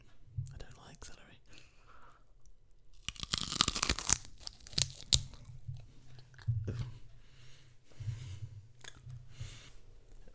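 A piece of celery is crunched close to a sensitive microphone, with several sharp, crackling bites and chewing. Soft whispered speech comes between them.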